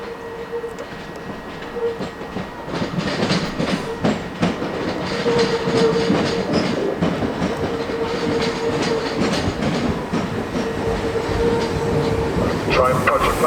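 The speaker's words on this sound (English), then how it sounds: "Train approaching platform 1 is the late running 12:13 service" Train pulling into a platform at Dover Priory station on the White Cliffs Line, with steady rumbling and rail clatter rising throughout, a faint tonal hum running underneath and a brief sharper sound near the end.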